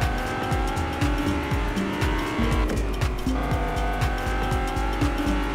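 A car driven around in the video game Fortnite, its engine revving loud and steady with repeated rising and falling gear shifts and tire squeal, continuous throughout with no talking.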